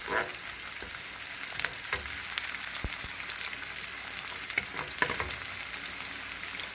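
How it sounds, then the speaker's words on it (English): Onion, ginger and garlic stir fry in a pan for chicken curry, giving a steady crackling sizzle with scattered pops and occasional light knocks of stirring, close and moderately quiet. "And stir fry the onion, ginger, and the garlic."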